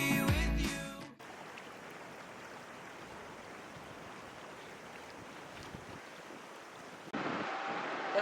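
The Khlieh Tichea Waterfall in East Jaintia Hills, Meghalaya, gives off a steady, dense rushing roar that runs unbroken for several seconds, with a brief burst of music at the start.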